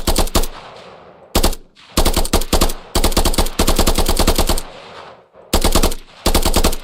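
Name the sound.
player shooting gun in a video game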